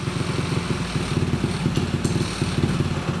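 A Honda CRF450 dirt bike engine idles steadily up close while its fuel screw and idle are being adjusted, a loud, even, rapid thumping that continues throughout.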